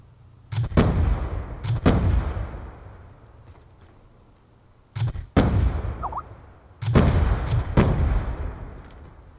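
Heavy bursts of gunfire and booming blasts from a Black Ops 2 multiplayer match, four loud clusters with short gaps between them, each echoing and rumbling before it fades.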